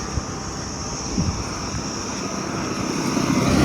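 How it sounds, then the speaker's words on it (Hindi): A bus passes very close on a hillside road, a steady loud engine roar that builds in strength as it nears and stays heavy through the end, with no voices over it. "ये आ रही बस। माय गॉड, कितनी पास से निकालते हैं लोग।"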